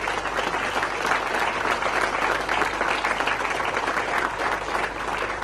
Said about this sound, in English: I want you to applaud your parents who are right here